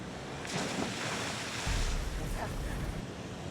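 A car drives through standing water, a broad rushing splash of spray and wash building and peaking midway over steady road and wind noise, with no clear talk.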